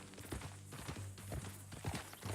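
Horse hooves clip-clop at a steady walking pace in Red Dead Redemption 2, several close, moderately loud strikes over a constant low rumble and faint background sound.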